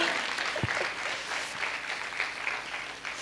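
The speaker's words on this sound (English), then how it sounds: "now you can applaud" An audience applauds after hearing a state legislature overrode a governor's veto on an autism bill, a continuous broad wash of clapping at moderate volume for the whole span.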